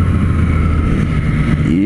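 A Triumph Street Triple 765RS motorcycle engine runs loud and close with a steady throaty drone, its pitch rising quickly toward the end as the revs climb, with no talk.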